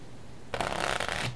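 A deck of playing cards being riffle-shuffled close up, a brief quiet pause giving way to a dense, rapid flutter of cards that runs for under a second and ends in a soft bridge settle.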